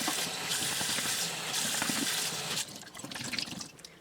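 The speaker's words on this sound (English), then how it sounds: "I will just rinse it out several times until the water runs clear" Running water rinsing out a kitten feeding bottle, a steady hissing stream that stops partway through, leaving softer drips and sloshing.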